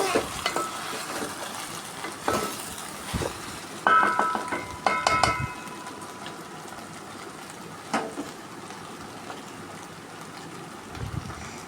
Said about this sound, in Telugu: ఉల్లిపాయ, పచ్చిమిర్చి, బెండకాయ ముక్కలు అన్నీ కలిపి మగ్గాలి.